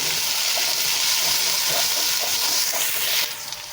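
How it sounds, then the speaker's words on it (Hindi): Black cardamom, star anise and cumin fry in a pan with oil for a Kashmiri dal chawal dish. A steady, close, loud sizzle and hiss carries on throughout and eases off near the end. "तो इसके साथ हम अच्छी तरह से फ्राई करेंगे।"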